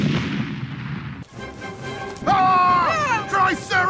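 A grenade blast in a video game, a dense noisy burst for the first second, then crackling debris under a shouted voice with rising and falling tones; loud and close throughout.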